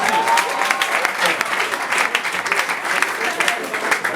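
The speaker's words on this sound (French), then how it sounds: "allez tentative d'applaudissement, applaudissez un peu" Festival crowd in a comedy show hall in Goma claps steadily on cue, a fairly loud patter of many hands holding for several seconds, with a voice speaking over it.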